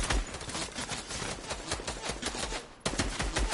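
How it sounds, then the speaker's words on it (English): Rapid submachine-gun fire in a video game, dense overlapping bursts running almost continuously, with a brief drop in the barrage before it resumes. "Oh, you're using SMG."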